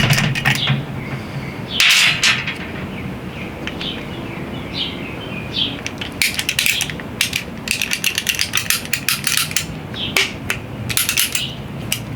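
Metallic clicking and ratcheting as a slug is pushed back out of the barrel of an AEA Bin Tac M50 air pistol. It starts with a few scattered clicks and builds to a busy run of sharp, close mechanical snaps, with no talking.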